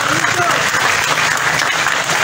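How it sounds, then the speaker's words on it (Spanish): Loud, dense applause from a crowd at a Bolivian health ministry ceremony, sustained clapping filling the room at close range. "vamos a celebrarlo con un fuerte aplauso"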